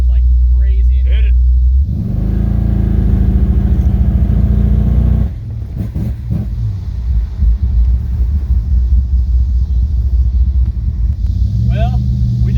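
A 1984 Chevrolet El Camino engine rumbles loud and close, then surges as it is floored in a hard pull, with a rattling, vibrating roar; someone talks briefly near the start.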